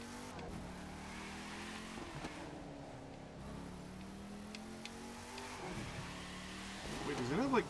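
Dodge Challenger engine in the video game The Crew 2, revving through several rising and falling pitch sweeps with a louder rev at the end, while people talk over it.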